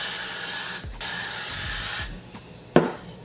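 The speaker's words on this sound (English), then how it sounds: "And in this process, I like to do 3 layers of the freeze spray." Got To Be freeze spray hissing onto a wig in several close, steady bursts, each lasting about a second, with short pauses between them and a light click near the end.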